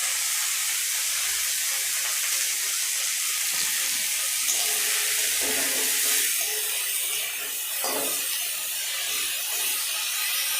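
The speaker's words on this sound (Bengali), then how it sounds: "এই গিমা শাকটিকে ভালো করে তেলে একটু ভেজে নেব, যাতে খুব তাড়াতাড়ি শাকটি ভাজা হয়" Gima greens frying in oil in a village kitchen, a steady loud sizzle and hiss that runs continuously, with faint watery crackles and no talking.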